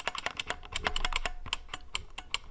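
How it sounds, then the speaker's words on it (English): A 1994 Model M buckling spring mechanical keyboard being typed on, sharp loud clacks in a quick uneven burst, close up and alone. "It is a Model M keyboard from 1994"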